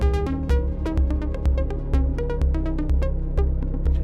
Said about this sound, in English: maybe the discordant sound you're hearing is also from the modulation of the delay